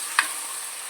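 Chopped tomatoes with salt frying in a hot pan while being stirred: a steady, bright sizzle with one brief scrape of the spoon near the start.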